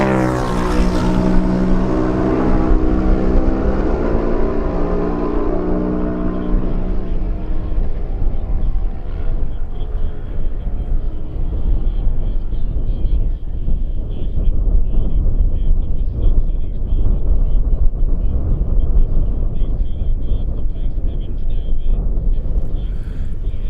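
Racing motorcycles, a Kawasaki followed by a Suzuki at a lightweight road race, roar past nearby; a sharp high-pitched engine whine falls in pitch as they pass, then a rougher engine drone continues with a voice talking over it.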